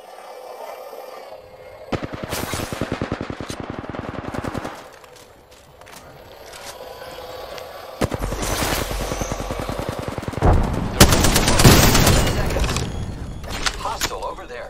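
Rapid automatic gunfire bursts in the Apex Legends battle royale game, loud, close volleys of dense shots in several stretches, with quieter gaps between them and a player talking over parts of it.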